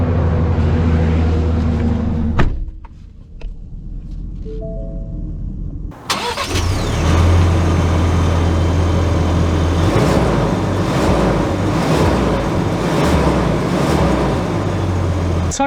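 A Ford Ranger Tremor pickup truck's engine cranks and catches with a loud start, then settles into a steady, close mid-toned running drone as the truck pulls away and keeps driving.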